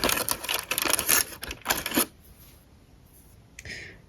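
Tin foil being peeled off a chocolate heart crinkles in dense, crackly bursts for about two seconds, then goes quiet before a short final rustle, close and fairly loud.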